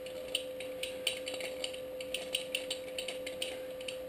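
Small repeated ratcheting clicks come from a bearing press being screwed together on an Align T-rex 550e helicopter, close and quiet, in an uneven rhythm over a faint steady hum.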